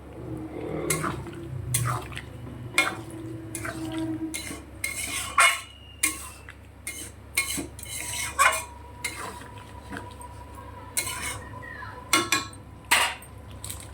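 Fried pointed gourds tipped into a pan and stirred, with a utensil clinking and scraping against the metal in irregular close knocks and taps, no talking.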